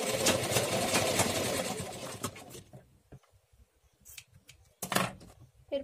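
A sewing machine stitches a baby frock, whirring steadily and close for about two seconds before stopping. Faint handling sounds and a couple of short clicks follow.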